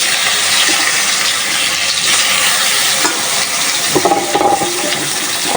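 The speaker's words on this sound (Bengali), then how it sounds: "মশলা করে বাজবো মাছগুলো" Rohu fish frying in oil with turmeric, chili, salt and cumin paste, a steady loud hiss and sizzle running throughout, with a few clinks of a utensil stirring near the end.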